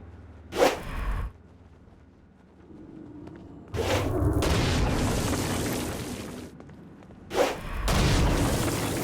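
The Stone Blast power in the video game Saints Row: Gat Out Of Hell fires against flying demons, giving sharp whip-like cracks that swell into rushing, booming blasts, three bursts in succession.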